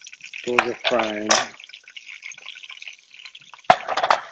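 Soft sizzling and crackling of shrimp wontons frying in oil under a voice speaking briefly, with a sharp clink of a utensil near the end.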